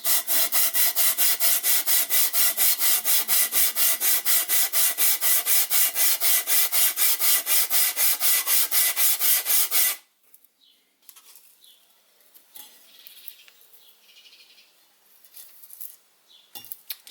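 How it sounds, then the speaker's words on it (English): A steel engine baseplate rubbed back and forth on wet and dry abrasive paper over a surface plate, a loud, steady, rhythmic rasping for about ten seconds, then stopping abruptly and leaving faint handling noises. "put some of this wet and dry on the surface plate, and then just gently rub it just to see where these high spots are"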